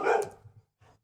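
A dog barks once, loud and close, with a short trailing whimper and a fainter second yelp after a brief pause.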